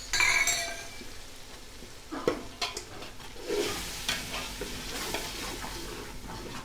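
Chili and ginger-garlic masala sizzle in a pan for mutton biryani, stirred steadily with a utensil that scrapes and clinks against the metal, close and unaccompanied by speech.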